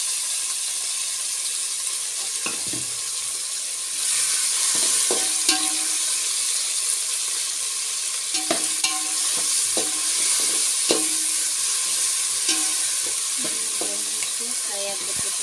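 Chopped tomatoes fry in a pan of hot oil for pulao with a steady soft sizzle, while a spoon scrapes and stirs them in irregular knocks and clinks; close and moderately loud, no talking.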